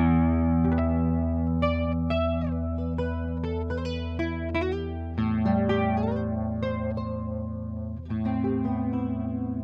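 A Cordoba Stage guitar plays sustained chords and plucked notes through a chorus effect, shimmering and wavering.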